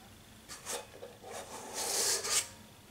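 Whipped cream is folded into pastry cream in a bowl, making soft scraping and rubbing strokes from a utensil. The strokes are close and quiet, with a longer, brighter scrape near the end, and there is no talking.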